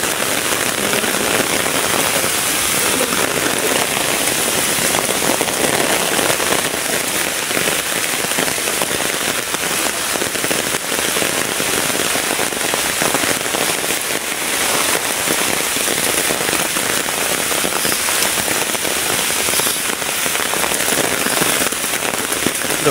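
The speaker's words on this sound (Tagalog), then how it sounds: "3 araw na po ditong umuulan sa amin." Rain on a mountainside after three days of downpour falls steadily onto surfaces, a dense unbroken hiss with scattered crackling drops, loud and constant with no voices.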